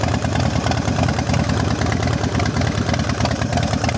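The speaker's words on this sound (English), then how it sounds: "Bike runs really nice." Harley-Davidson Electra Glide Classic FLHTC with diamond-cut cylinders and heads, Mikuni carburetor, Roland Sands air cleaner and Vance and Hines exhaust idles close by, a steady loud throbbing rumble without a break.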